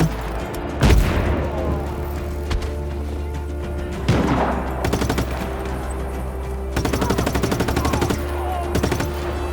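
Heavy grenade explosions boom at intervals amid rapid bursts of automatic gunfire in the video game Just Cause 3, loud and close, with a steady low rumble underneath.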